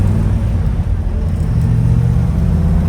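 A 1966 Chevelle SS with a Turbojet 396 V8 and 4-speed cruises along, its deep engine rumble and low drone steady and close throughout, with no talk over it.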